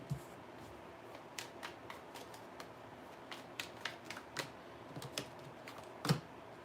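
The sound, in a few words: shuffling and drawing tarot cards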